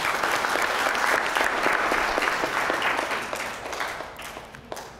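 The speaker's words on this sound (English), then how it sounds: "Another round of applause for Zach, please." Applause from a speech contest audience for a speaker, a dense steady patter of many hands clapping close by, holding loud for several seconds before easing slightly toward the end.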